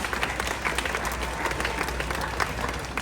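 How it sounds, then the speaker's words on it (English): Audience applause at an outdoor bird show at Disney's Animal Kingdom, a steady crowd of clapping hands with scattered cheers holding at an even level throughout. "Round of applause for Taysom, our math champion, everyone."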